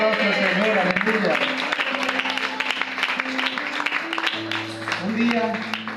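Church congregation applauding, scattered clapping under loud talk and sustained tones, with voices carrying over the claps throughout.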